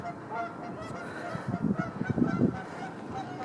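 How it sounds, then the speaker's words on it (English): Canada geese honk from somewhere below an abandoned crane, a brief cluster of rough calls rising over a low ambient hum, moderately distant. "There's some geese down there making some noise. Canadian geese."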